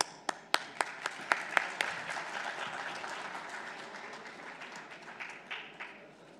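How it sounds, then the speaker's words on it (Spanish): Audience applause at an introduction at a business leadership forum on cherries in Chile, opening with a few loud sharp claps that swell into steady, dense clapping from a seated crowd, then slowly thinning toward the end. "Un aplauso, por favor."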